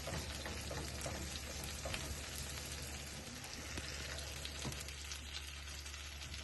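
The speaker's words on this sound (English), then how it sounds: "Now we're gonna add our granulated garlic and allow it to be infused in the butter before we add our bread." Granulated garlic frying in melted butter in a pan, a steady, quiet sizzle and crackle with faint pops throughout and no talking.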